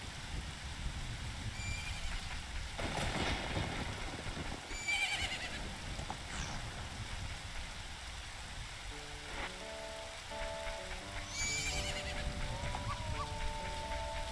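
A horse whinnies in the video game The Legend of Zelda: Majora's Mask, two loud neighs some seconds apart over a steady rain-like wash, with short game-music tones joining near the end.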